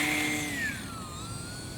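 Electric motor of a RadioLink A560 3D RC plane hovering outdoors in light wind, a steady whining buzz whose pitch slides downward as the throttle eases, fairly close and alone.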